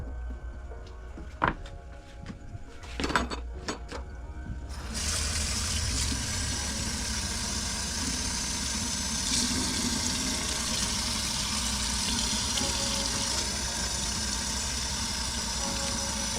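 Salmon roe being rinsed in a strainer under running water, a steady tap stream rushing loudly and continuously after a few faint clicks and knocks at the start.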